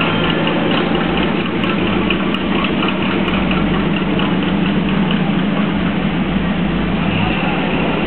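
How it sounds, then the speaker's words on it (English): Trucks idle at a street protest. Their engines make a loud, steady low rumble that fills the whole stretch, with faint clicks on top. "Lots of trucks."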